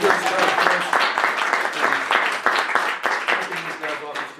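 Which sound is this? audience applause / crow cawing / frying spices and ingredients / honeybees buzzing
audience applause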